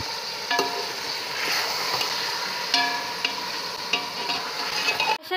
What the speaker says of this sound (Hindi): इसे अच्छी तरीके से मिक्स करेंगे और 6 से 7 मिनट अच्छी तरीके से करेंगे